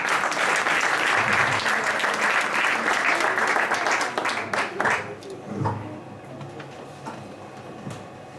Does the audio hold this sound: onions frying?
no